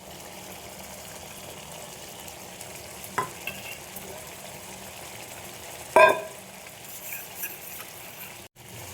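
Whisked yogurt going into a pan of doi potol, a Bengali pointed gourd curry, with a soft steady sizzle and stirring, plus a couple of brief scraping knocks against the pan.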